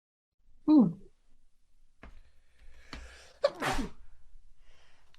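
A single sharp sneeze bursts out near the start, followed by scattered rustling and a couple of faint voices nearby.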